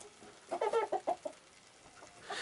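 A chicken clucks several times in a short, quick burst, fairly close, then goes quiet against a soft background hiss.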